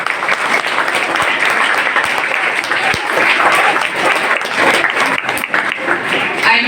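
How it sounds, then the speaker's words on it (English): A school audience at a technology festival applauds the participants in a dense, sustained roar of clapping that holds loud and steady throughout. "A big round of applause to all the participants"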